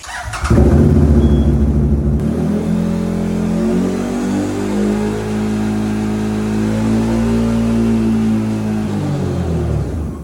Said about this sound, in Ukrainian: щоб можна його завести і розігнати до швидкості 100 км